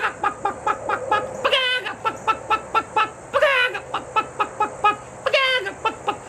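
A festival concert crowd clucking along like chickens in a rhythmic song, with repeated bursts of many voices imitating hen clucks over music, loud and lively.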